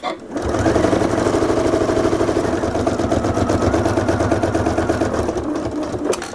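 Sewing machine back stitching quilt binding, a close, steady rapid whirring chatter that runs continuously with no speech.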